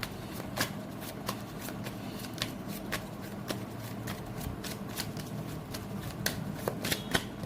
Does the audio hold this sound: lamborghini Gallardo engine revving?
no